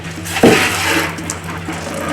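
Steady running water pours and splashes while an Indian cobra is rinsed off, a loud, close, continuous rush with a brief burst of heavier splashing near the start.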